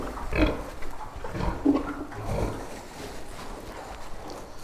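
Sows on a pig farm, thin after farrowing and around 150 kg, grunting and snorting in several low, rough bursts close by, with no talk over them.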